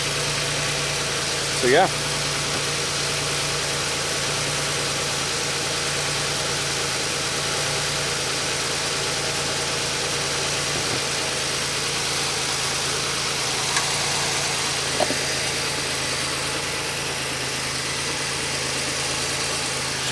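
Car engine idling steadily throughout, a low continuous hum with faint clicks, while a person speaks briefly.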